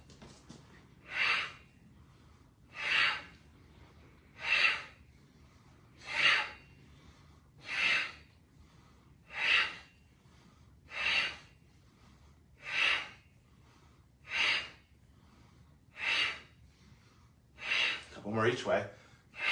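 Forceful breathy exhalations during a yoga fire-breath sequence with crossed wrists and bent knees, about a dozen evenly spaced bursts close to the mic, ending in a rougher, longer rush of breath.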